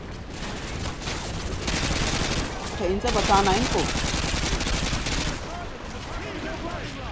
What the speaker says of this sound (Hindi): कितनी गोली चल रही है